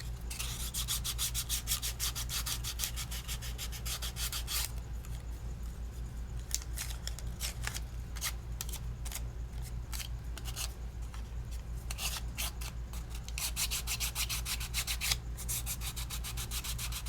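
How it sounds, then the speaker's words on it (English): Sanding along the edge of a paper craft project, a steady soft rubbing and scratching that comes and goes in bursts over a constant low hum, with no talking. "sand it until it comes off."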